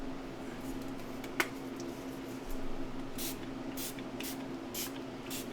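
A spray bottle spritzing water onto paint papers, several short breathy hisses in a quick burst of about five pumps over quiet room hum, with one sharp tap early on.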